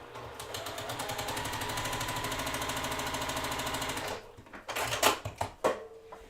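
A sewing machine runs a straight seam along a marked line on quilt fabric with a fast, even mechanical chatter for about four seconds. Then it stops and a few separate clunks and handling knocks follow.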